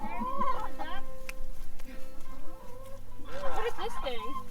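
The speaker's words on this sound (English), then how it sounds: "Trying to catch chicken." Chickens clucking and squawking at a petting zoo, close and lively, with people talking over and between the bird calls.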